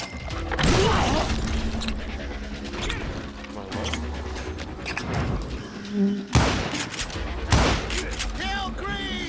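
Shotgun blasts and other gunfire in the Western shooter game Call of Juarez Gunslinger, a run of heavy booming shots with crashes and mechanical clacks scattered across the stretch, mixed with game voices and commentary.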